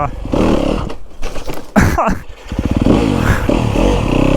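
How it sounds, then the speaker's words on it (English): Yamaha YZ dirt bike, fitted with a hard-hitting engine map, riding with a loud, steady engine roar that dips briefly and then picks back up, with some talk over the engine. "let's ride the bike before the sun goes down"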